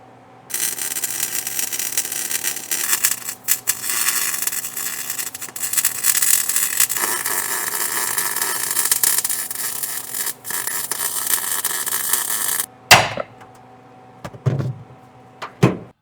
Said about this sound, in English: we'll start in the middle, tacking, work our way out, then we'll go welding it up